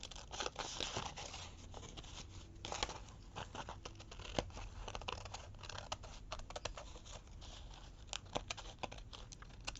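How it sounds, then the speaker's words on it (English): Scissors cutting glued paper for a handmade envelope, a run of close, quiet snips and scratchy paper rustles with no talk. "I'm gonna cut this off here"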